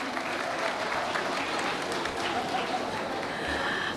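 Graduates clap for themselves at a symbolic graduation ceremony: a continuous, moderately loud ripple of applause from a group, with some voices mixed in.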